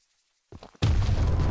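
A bomb goes off in the video game Choo-Choo Charles: after a short rumbling lead-in, a loud explosion erupts and holds as a sustained, roaring blast to the end.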